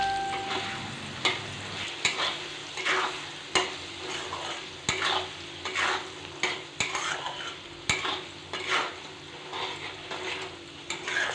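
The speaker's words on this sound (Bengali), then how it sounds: "এবার এই মশলাগুলো দিয়ে ভালো মতো একটু ভেজে নেব।" Chili powder and cumin powder frying in a pan for Kolkata-style ghugni, a soft sizzle under repeated scraping stirs of a spatula against the metal, close and steady, with no talking.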